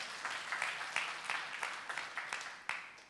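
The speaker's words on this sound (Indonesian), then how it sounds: "Tepuk tangan dulu buat Allah kita." A congregation claps during a Sunday church service, a fairly faint, loosely rhythmic patter of hands with distinct sharper claps punctuating it, heard without talking.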